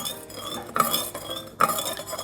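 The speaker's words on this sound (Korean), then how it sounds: "제가 조금 설탕을 녹여준 다음에 식초를 부을 겁니다." A utensil clinks and scrapes against a container while sugar is stirred to dissolve into brine for pickled garlic, with loud, close metallic strokes in two main bursts; no voices.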